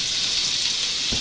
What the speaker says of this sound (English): That's butter on a hot skillet is what that really is